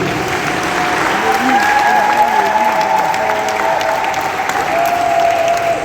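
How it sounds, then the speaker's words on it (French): A large crowd applauds and cheers steadily in honor of the late Marshal Mobutu at a memorial gathering, a loud, dense clapping that fills the space from start to finish with a few voices shouting through it. "est-ce que vous pouvez acclamer pour la mémoire du maréchal?"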